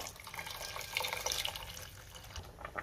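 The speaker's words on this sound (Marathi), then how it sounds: "आपल्याला गरम पाणीच घालायचे" Hot water is poured into a shev bhaji curry in a home kitchen, making a soft, continuous splashing pour that runs the whole time at low level, with no voices.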